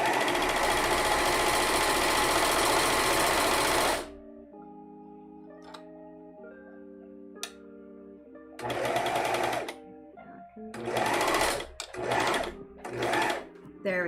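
A serger sewing machine hems fabric with a loud, fast whirring run at first, then later stops and restarts in several short bursts, with a person talking in the quieter gaps.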